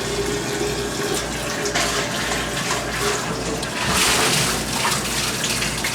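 Cold tap water gushes hard into a keg being cleaned, a loud, steady rushing stream that swells louder toward the end with no voices.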